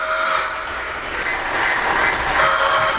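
A Polar Express model passenger train sounds off as it powers up on a lit layout, giving a steady, close, fairly loud sustained whistle-like tone with a faint higher note near the end.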